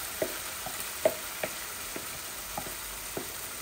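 Pabda fish frying in oily mustard masala, a soft steady sizzle broken by several sharp spoon or spatula clinks against the pan, close and fairly quiet.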